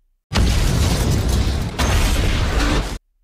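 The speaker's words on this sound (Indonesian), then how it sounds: "Saat Max akan masuk ke kapal selamnya tiba-tiba terjadi ledakan" A loud booming blast that bursts in abruptly and roars for nearly three seconds, with a brief dip and renewed surge before cutting off.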